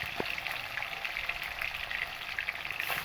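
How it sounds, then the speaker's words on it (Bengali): Cubes of paneer frying in hot oil and ghee, a steady close sizzle with fine crackling pops throughout and no voices. "হালকা লালচে কালার করেই পনিরগুলোকে ভেজে নেব"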